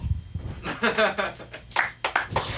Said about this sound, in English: Clap if you guys are interested in comedy.